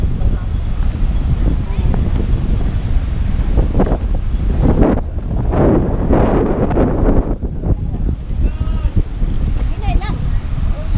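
Strong wind buffets the microphone at Bituon Beach, producing heavy rumbling gusts that surge and ease, with people talking and other background sounds underneath.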